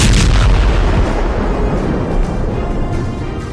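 Artillery fire and explosions in war footage: a loud, deep, sustained rumbling boom that swells at the start and slowly rolls off, with no voices.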